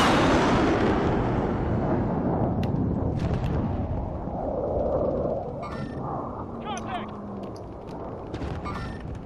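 Video game gunfire and explosive blasts boom heavily at first, then fade into scattered bursts and pops as players talk over the action.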